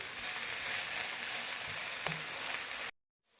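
Garlic sizzles steadily in hot oil for masala bhindi, a dense, even frying hiss with faint pops, running close and continuous for about three seconds before cutting off to silence.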